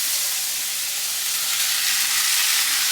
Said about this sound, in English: Having the cooking up those shells in the oil first, that seriously makes a difference.